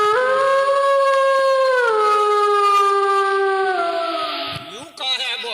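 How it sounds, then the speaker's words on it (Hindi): A wolf howl in a folk nautanki performance: one long, loud, sustained tonal howl that holds steady, slowly falls in pitch, and breaks off into a short rough ending. "ये भेड़िए की आवाज है"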